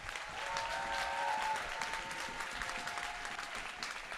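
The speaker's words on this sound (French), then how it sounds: "On peut donc applaudir les grands gagnants du concours de simulation édition 2025." An audience at the SIM CUP SFAR simulation competition final applauds the winning Strasbourg team, producing steady, dense clapping that holds at an even level for several seconds, with a faint tonal hum underneath.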